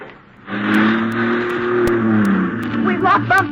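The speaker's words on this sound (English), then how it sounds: "Let the car roll back toward the one in the rear." A car eases off the brake and rolls back into the vehicle behind, staged as a radio drama effect: a steady engine hum with a low tone builds suddenly, then a couple of short knocks and scrapes toward the end.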